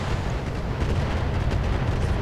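Weapons firing in the BattleTech mech combat game: a dense, continuous rumble of heavy booms and blasts runs through the whole short stretch, loud and without voices.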